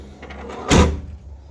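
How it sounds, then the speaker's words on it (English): A newly fitted door on a Land Rover Defender 130 TD5 swings shut with a single solid thud, close and fairly loud, followed by a brief rattle against a quiet background. "Another door shutting nicely"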